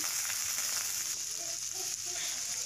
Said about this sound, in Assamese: প্ৰথমতে দিম গ্ৰীণ মটৰ সেইখিনি দি পেলাই অলপ সময় ভাজি লম